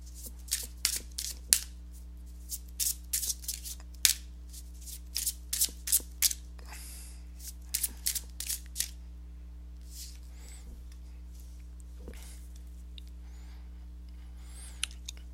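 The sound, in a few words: shuffling tarot cards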